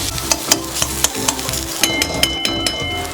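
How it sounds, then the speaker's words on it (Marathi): Four garlic cloves and an inch of ginger fry with onion in a pan for a Malvani red chickpea curry, a steady close sizzle broken by light scraping taps as the mixture is stirred. "त्यामध्ये आता मी 4 लसूण पाकळ्या आणि 1 इंच आलं घालून घेते आणि ते पण आपल्याला व्यवस्थित भाजून घ्यायचं आहे"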